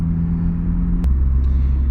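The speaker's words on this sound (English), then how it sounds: "when you're driving in traffic and the exhaust is droning on" Abarth 595 Competizione hot hatch, a 2020 model, gives a steady low exhaust drone with rumbling road noise, continuous and fairly loud inside the cabin.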